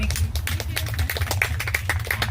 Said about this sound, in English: Let's give everyone a warm round of applause for Nikki.